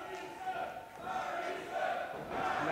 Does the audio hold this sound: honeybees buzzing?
no